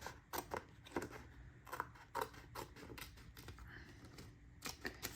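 Scissors snip through printed scrapbook photos at close range, a quiet series of sharp, irregular cuts separated by short pauses.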